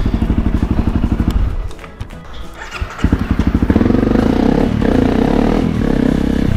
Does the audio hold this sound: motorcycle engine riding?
yes